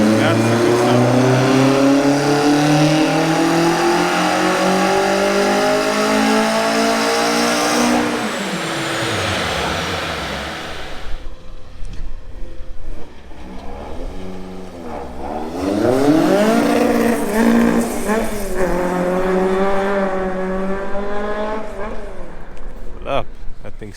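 A Mk1 Volkswagen Golf with a 2.0 16v engine and individual throttle bodies revs hard and loud on the street, climbing in pitch, dropping off, then screaming up through the gears again, with voices faintly underneath.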